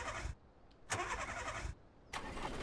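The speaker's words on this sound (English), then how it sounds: "Sometimes I start the car and I don't realize it, and I end up shutting it off." Car engine starting in a video game, three bursts of engine noise separated by brief gaps as it is switched on and off, faint and close, with no speech.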